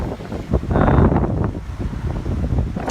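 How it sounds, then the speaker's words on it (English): Strong gusts of wind buffet an outdoor microphone, a loud, continuous low rumble that swells in the middle and keeps roaring throughout with no voice. "the wind, I don't know if you guys can hear about this, but it's really picking up."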